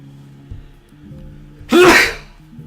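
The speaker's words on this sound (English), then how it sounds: "I had to sneeze." One sharp, loud sneeze bursts out close to the microphone after a quiet stretch with a faint hum.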